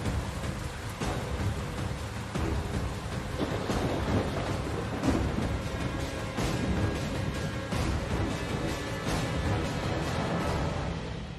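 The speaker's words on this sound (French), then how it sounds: "C'est juste le tonnerre." Thunder rumbles through a steady heavy rainstorm, a dense broadband roar with swelling rolls that stays loud and continuous throughout, with no voices.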